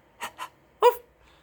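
A voice mimics a dog barking: two short woofs in quick succession, then a third louder woof after a brief pause.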